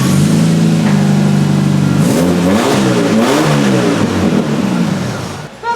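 A 4-cylinder Chevrolet S-10 pickup with a newly fitted exhaust revs up and down loudly and close by, its engine note rising and falling through several pulls before easing off at the end.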